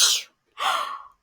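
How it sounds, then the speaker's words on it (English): A voice acts out a single sneeze: a sharp breathy intake, a short pause, then a hissing burst, close and isolated with nothing else around it. "Presently, Peter sneezed."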